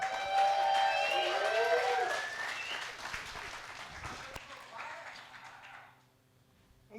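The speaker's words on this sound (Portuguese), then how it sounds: "eu gostaria que vocês recebessem com muitos aplausos ele" Studio audience at a talk show breaking into loud applause and cheering with whistles, the clapping thinning out and fading to near silence after about six seconds.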